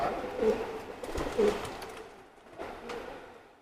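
Teddy pigeons coo in a few soft, repeated low calls spaced about a second apart, close by against a quiet background.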